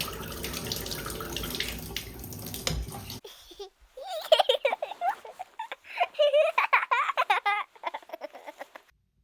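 Rusty water pours from a bathtub spout in a steady hiss for about three seconds, then cuts off abruptly, followed by scattered squeaky chirps and brief bursts.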